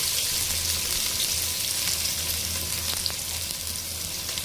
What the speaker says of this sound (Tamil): அரிஞ்சு வச்சிருக்க வெங்காயம் 4 கிலோ இதில் போட்டுறாங்க